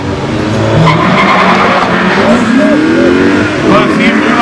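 A BMW E38 and a Volkswagen Golf 7 GTI run a quarter-mile drag race at Aldenhoven, with loud, close tyre squeal and engine roar under a person's voice.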